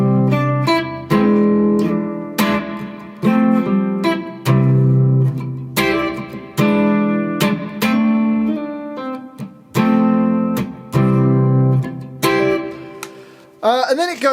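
Guitar playing the intro of a song at full tempo, a quicker run of plucked chord phrases with hammer-ons, loud and close, ending on a brief sliding squeak.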